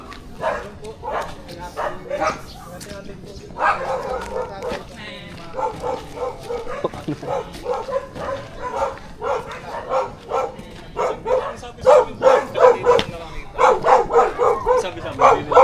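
A dog barks repeatedly in short yips and woofs at an outdoor spot in the Philippines, mixed with people talking nearby, the barking growing louder and more frequent toward the end.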